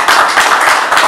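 A short burst of clapping, steady and fairly loud, an audience briefly applauding at a mayor's public meeting with townspeople in Scandale, Italy.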